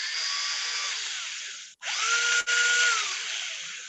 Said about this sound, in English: I thought it was a drill, but it's the car No, actually running.